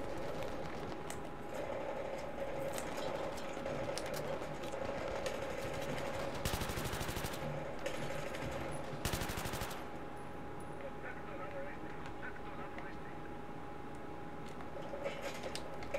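Rapid automatic gunfire from the video game Battlefield 3 rattles in repeated bursts over a busy battlefield din, with a couple of louder sustained volleys in the middle, while players talk over it.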